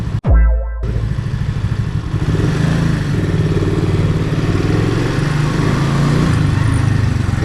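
A motorcycle ridden through a slalom at a riding school gives a sharp clank, then settles into a loud, close, continuous engine drone that rises and falls slightly.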